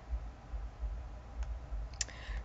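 A single sharp computer mouse click lands near the end, faint and close, over a steady low hum while a website slider template's settings are saved.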